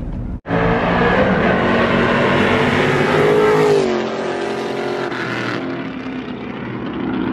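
A Camaro and a Mustang street racing roar past close by, loud engines at full throttle rising sharply after a brief gap, then the pitch drops and fades as they pull away.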